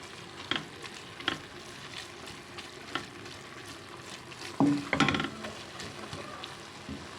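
Minced meat frying in a pan while a spatula breaks it apart, a soft constant sizzle punctuated by sharp scraping and knocking strokes, with a louder burst of clattering near the end.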